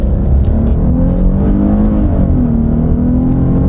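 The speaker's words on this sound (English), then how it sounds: "So here we go. We'll give it some gas." A Hyundai V6 car pulls away from a stop, its engine droning low and rising steadily in pitch as it accelerates, heard loud and close from inside with no talking.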